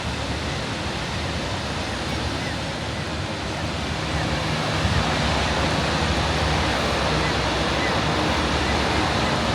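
A waterfall at a Norwegian fjord pours down in a steady, loud, broad rushing roar that holds for the whole stretch, with some wind buffeting.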